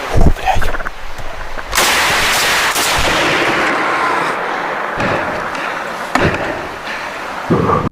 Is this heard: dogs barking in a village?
no